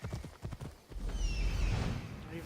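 Horse hooves clip-clop in Assassin's Creed Odyssey, a steady close rhythmic plodding that rises after a voice speaks briefly over the start, then continues loud beneath the game's ambient sound.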